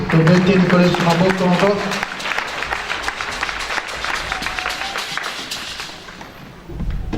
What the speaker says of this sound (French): Acclamons très fort la parole